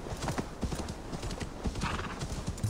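Horse hooves clip-clop in a quick galloping rhythm through a video game set in Viking-age Assassin's Creed Valhalla, with a brief neigh. The sound is steady, moderately close and faint, and someone talks intermittently over it.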